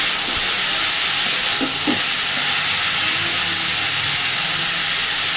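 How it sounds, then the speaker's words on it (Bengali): Vegetables fry in a pan with a steady, bright sizzling hiss, broken by a few soft scraping knocks of stirring, heard close and alone. "খুব ভালোভাবে এবার সব কিছু মিশিয়ে দেবো।"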